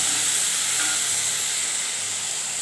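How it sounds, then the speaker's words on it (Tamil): Fresh coriander leaves sizzle in hot oil while a home lunch is cooked, a loud, steady, close hiss that continues evenly throughout. "இப்போ பாதி மல்லி தழை எடுத்து எண்ணெயிலே போட்டுருவோம்"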